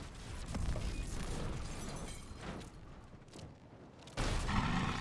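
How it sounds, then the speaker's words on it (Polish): Sharp popping bangs from a Mercedes-AMG exhaust backfiring in Need for Speed Unbound, several loud bursts with rumbling engine noise between them. "strzały z wydechu, widzicie, pojawiają się z prawej lub z lewej strony"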